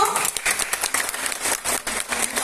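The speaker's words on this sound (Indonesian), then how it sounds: "Oke, tepuk tangan dulu." An audience at a training event claps hands together, a busy continuous patter of many claps, moderately loud with no voices over it.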